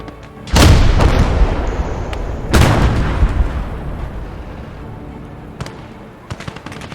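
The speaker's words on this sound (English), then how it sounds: "Are we going to see the artillery from Tater?" Artillery fire in the World War II video game Gates of Hell: two loud, close booms about two seconds apart, each rolling into a long decaying rumble, followed by fainter distant pops and crackles.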